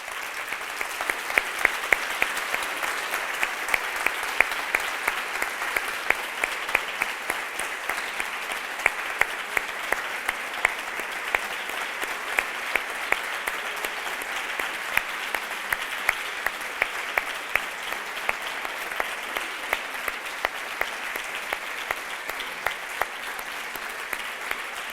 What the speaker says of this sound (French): Merci beaucoup, vos applaudissements me touchent